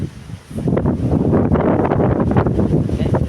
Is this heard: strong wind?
yes